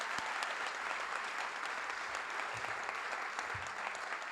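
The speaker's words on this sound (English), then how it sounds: "So a huge round of applause." Crowd at a high school scholarship night gives a round of applause for scholarship students and softball players, a steady, fairly distant and soft patter of many hands with a few faint low thumps.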